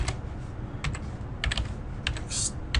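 Quick, uneven keystrokes on a computer keyboard, typed in short bursts with small pauses between, close and fairly quiet, with no one talking.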